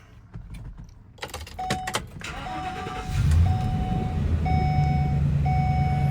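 A 2016 Ford E-350 Super Duty box truck engine cranks and catches, settling into a low rumbling idle while a repeating electronic beep chimes in the background.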